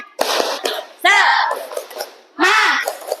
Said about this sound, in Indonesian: Tepuk semangat dulu deh biar anak-anak lebih semangat.